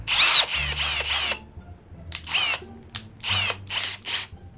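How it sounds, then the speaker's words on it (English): A power drill bores out a rainbow crane game claw in repeated bursts, whining on and off with short pauses between pulls of the trigger, close and loud with no talk. "I'm gonna drill out the claw"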